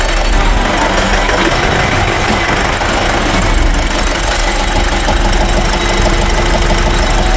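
A Nissan Urvan engine freshly back from a general overhaul runs steadily up close, a loud continuous mechanical clatter with a knocking undertone and no talk.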